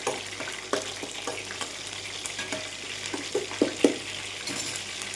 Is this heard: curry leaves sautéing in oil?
yes